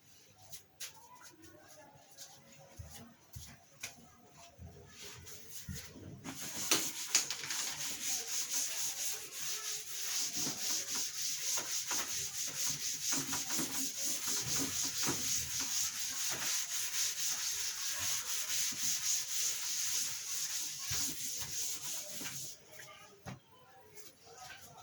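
A writing board is rubbed clean during a physics lecture, a steady loud scrubbing that runs for most of the stretch, with brief quieter moments and faint movement before and after.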